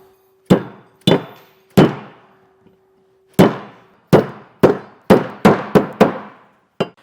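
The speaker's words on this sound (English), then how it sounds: "just went with a real hammer and just got it popped down in place" Sharp metallic hammer blows tapping a clip into place on a B&W Patriot 5th wheel trailer hitch head, about ten strikes in uneven bursts, with a pause in the middle and quicker taps toward the end.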